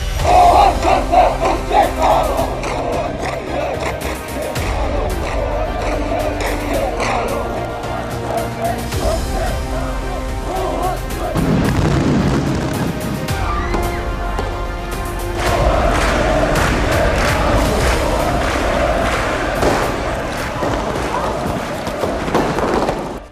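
A huge crowd roars and chants at the June 1987 democracy protests in Korea, a dense, loud, sustained mass of voices swelling and surging without pause.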